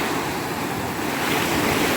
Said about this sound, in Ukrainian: Неспокійне воно. Такі красиві хвильки нам дарує.